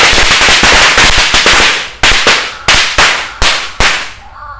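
Firecrackers set off inside a metal wok burst in a rapid crackling string of loud bangs, then slow to about half a dozen separate sharp blasts, each with a short decaying tail, ending in near quiet.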